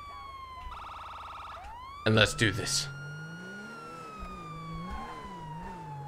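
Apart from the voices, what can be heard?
police car siren in GTA 5 video game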